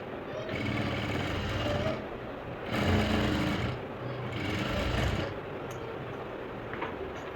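A sewing machine stitching a blouse runs in bursts of fast, rattling whir, stopping and restarting several times at close range with no voices.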